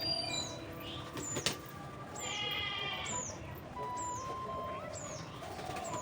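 Pigeons cooing in short repeated downward-sliding notes over a quiet background, with a sharp click partway through.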